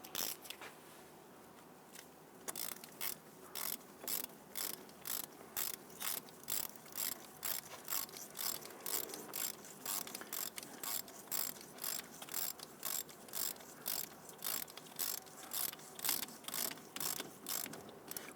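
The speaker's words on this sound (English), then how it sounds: "then we'll come back with our ratchet and we'll snug that down gently" Ratchet cranking a bolt snug on the upper control arm of a 2000-2006 Toyota Tundra, a steady run of close, sharp clicking bursts repeating in even strokes after a brief quiet start.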